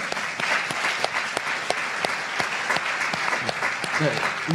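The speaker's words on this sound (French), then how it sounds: "On peut les applaudir pour toutes ces réponses-là." An audience at a start-up pitch battle on stage at a web festival claps steadily, dense applause with scattered sharp claps and voices talking over it.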